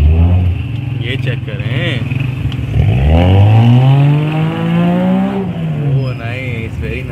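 A car engine being driven to park, loud and close, rumbles, then revs up and down in long rising and falling sweeps, with someone talking over it.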